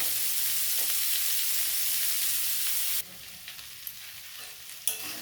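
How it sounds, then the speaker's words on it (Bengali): Amla (Indian gooseberry) sautéing in oil in a pan gives off a steady, loud sizzle that drops suddenly to a softer frying hiss, with a few faint stirring knocks and clicks near the end. "আমি কিছুক্ষণ একটু তেলে কষিয়ে নেব"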